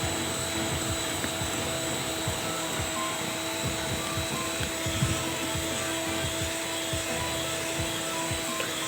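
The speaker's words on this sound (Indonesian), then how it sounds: "Kalau saya selain yang memutar itu mixer, kita juga putar dengan tangan ya" An electric mixer beats pandan sponge cake batter with a steady, loud, continuous motorized whir and faint clicking of beaters against the bowl, close up and unbroken throughout.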